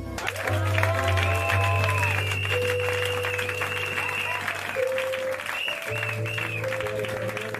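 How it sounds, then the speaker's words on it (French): Church congregation at an international Sunday worship service applauding and cheering God, steady loud clapping with crowd voices over sustained music with organ-like tones throughout. "On acclame son Dieu."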